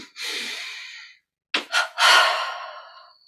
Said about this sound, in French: Comme ensemble, double respiration.